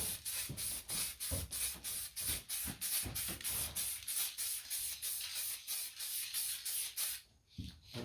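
Spray paint can hissing onto a motorcycle helmet in a light first coat, a steady run of short repeated bursts close up, each a broad hiss, ending in a brief pause near the end.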